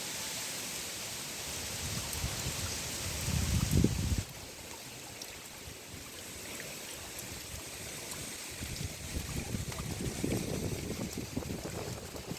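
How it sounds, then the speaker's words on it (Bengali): Strong wind-driven rain roars continuously, with gusty surges rising and falling and a dense rushing hiss throughout. "প্রবল ঝড় বৃষ্টি হচ্ছে"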